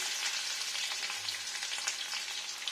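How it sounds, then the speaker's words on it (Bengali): Chopped ginger sizzles in hot oil in a home kitchen pan as a steady, soft crackling fry, with no voices over it. "তেলটা হয়ে গেছে এবার প্রথমে এখানে আদাটা দিয়ে নেবো কুচানো আদাটা"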